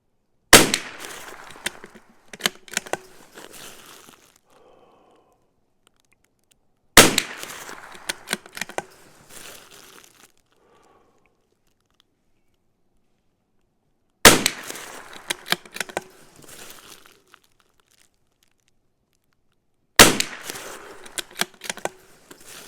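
Rifle shots from a CZ 457 rimfire fitted with a Lilja barrel, fired with Eley match ammunition: four sharp, loud reports spaced several seconds apart, each followed by brief rattling and mechanical clicks of the action before silence.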